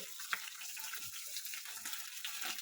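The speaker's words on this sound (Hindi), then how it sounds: "ये देखिए, हमारी जिंजर गार्लिक पेस्ट फ्राई हो गई है। अब इसमें मैं ऑनियंस ऐड कर दूंगी।" Onions hit hot oil with fried ginger garlic paste for a sabut masoor dal, giving a steady, even sizzle with faint stirring clinks, no voices.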